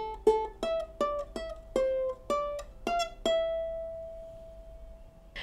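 The opening line of a melody, plucked as single guitar string notes: about nine clear, quiet notes in a slow rhythm, the last one ringing out and fading, with no voices.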